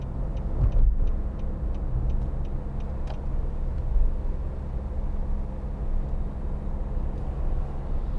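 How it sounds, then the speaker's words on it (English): A 2013 Nissan Note 1.5 dCi Acenta diesel engine ticks over while driving, giving a steady low in-cabin drone and road rumble that hold evenly throughout with no talking. "You can just let the car tick over and it will pull."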